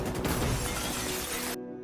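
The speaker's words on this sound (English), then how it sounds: "Alex suddenly shoots through a glass window." A gunshot in a film blasts through a glass window, heard as a loud burst of crashing, shattering glass lasting over a second before cutting abruptly to near silence.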